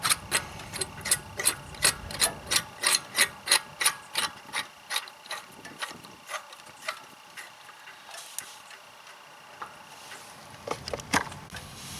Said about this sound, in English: I'll have to tighten this down so it grabs it.